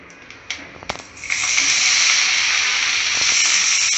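Fresh chopped methi (fenugreek) leaves hit a hot pan: a few light clicks and taps, then a sudden burst of bright, close sizzling that settles into a steady hiss.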